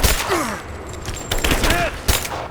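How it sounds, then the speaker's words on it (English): Suppressing gunfire in the action game Rise of the Tomb Raider, loud continuous volleys of shots with sharp bursts and thuds, mixed with shouted combat voices. "Give me suppressing fire! Focusing fire!"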